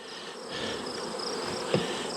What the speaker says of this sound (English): Actually forgot to bang the bees out of the box again